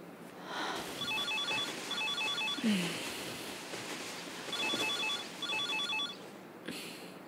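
A telephone rings in repeated bursts, two sets of trilling rings separated by a pause, moderately loud over a noisy room background.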